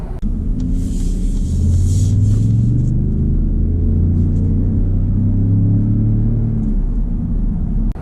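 A 2019 Ford F-150 Limited with a Raptor tune accelerates hard, its deep engine rumble climbing through rising gear pulls with audible shifts, loud and close from inside the cab.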